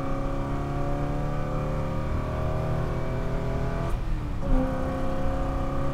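A 1969 Camaro Z/28 with its 302 V8 runs loud and close, holding a steady high-revving drone with a brief sharp change near the end and no talk.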